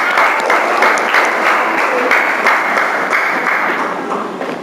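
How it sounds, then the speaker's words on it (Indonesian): A class of eighth-grade students at a junior high school clapping for a group, a brisk, even burst of applause from a roomful of hands, close and loud throughout. "tepuk tangan buat kelompok"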